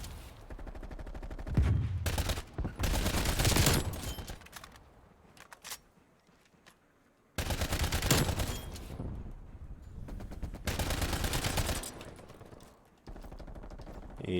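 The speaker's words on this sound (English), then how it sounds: "Supposed to be an assault rifle. That is a light machine gun." Light machine gun in Black Ops Cold War fires in loud sustained bursts and rapid volleys, broken by quieter gaps, with no talk over it.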